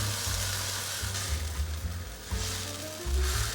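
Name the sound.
stir-frying mushrooms and spinach with kimchi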